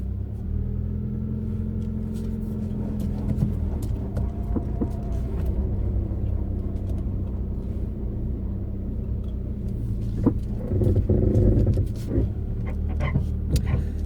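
An old car without power steering manoeuvring slowly in a parking lot: a steady, close low engine rumble runs throughout and swells briefly louder near the end.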